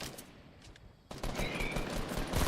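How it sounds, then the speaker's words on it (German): Gunfire in the Fortnite video game, a burst of rapid shots that turns loud and dense after a quieter opening, with the firing continuing to the end. "Ich werde beschossen."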